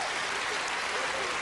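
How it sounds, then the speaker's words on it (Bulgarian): Audience applause after a Ukrainian folk dance performance by a ballet troupe on a Bulgarian talent show, a dense, even wash of clapping filling the moment, with voices mixed in. "Аплодисменти!"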